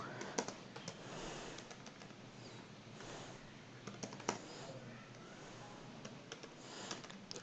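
Steady, soft tapping of resume text being typed on a computer keyboard, faint and close over a hissy background with no voices.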